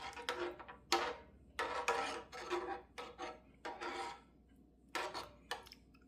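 A spoon stirs a pot of soup seasoned with cracked black pepper, making close scraping and rubbing strokes against the pot in short bursts separated by brief pauses, with no speech.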